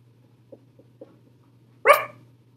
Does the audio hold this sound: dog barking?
yes